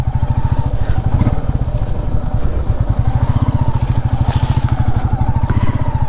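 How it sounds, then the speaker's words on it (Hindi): Motorcycle engine pulsing steadily and loud up close while riding off-road over a rough dirt village track toward a river in Birmitrapur, with a dense rapid firing rhythm throughout and no talk. "बाइक का ऑफरोडिंग टेस्ट भी हो जा रहा है।"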